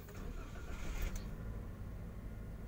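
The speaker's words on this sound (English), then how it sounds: "you hear the car engine sound" A car engine cranks and catches as the key is turned, settling into a low rumble; faint and close, with no talk.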